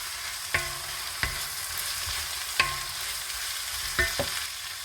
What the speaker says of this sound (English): Let's toss in our mixed veggies.